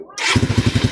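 A freshly built Suzuki Raider 180cc carbureted motorcycle engine cranks and catches, then settles into a close, rhythmic putter of quick, even pulses right after starting.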